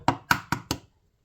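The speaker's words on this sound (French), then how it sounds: "tu prends un verre, tu casses ton œuf" Four sharp taps in quick succession of an egg being cracked against a glass rim, close and crisp, then silence.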